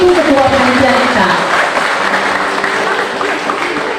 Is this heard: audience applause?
yes